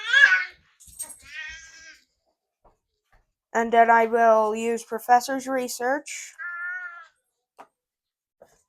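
A house cat meows in several short, varied calls, some close and high-pitched, interleaved with a person talking during a Pokémon card game.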